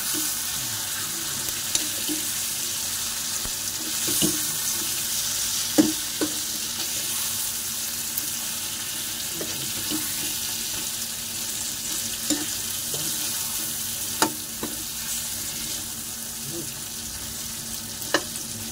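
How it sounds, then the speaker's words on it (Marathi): Brinjal stirred and fried with masala in oil, a continuous hiss of frying with occasional sharp clicks of the spoon against the pan, close and without talk. "राहिलेला मसाला पण ह्याच्यात टाकायचा. चांगलं परतून घ्यायचं."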